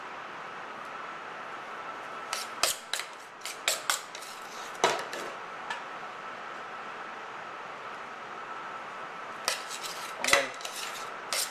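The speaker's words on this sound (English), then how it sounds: "Try to put it on a spoon and drop it. You do 1 spoon in each mould first." A spoon repeatedly clinks against a bowl and metal moulds while sponge mix is dropped in, with sharp scattered taps in bursts over a quiet background and a brief spoken word.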